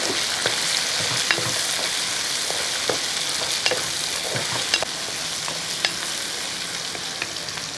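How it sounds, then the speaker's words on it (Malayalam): Ash gourd pieces being stirred into a simmering green gram curry, a steady scraping and sizzling with intermittent spoon clicks against the pan, close and continuous with no talk. "നേരത്തെ അരിഞ്ഞു വെച്ചിരിക്കുന്ന ആ കുമ്പളങ്ങ ഇങ്ങോട്ട് ഇട്ട് കൊടുക്കുകയാണ് അതിനുശേഷം ഒന്ന് ഇളക്കി"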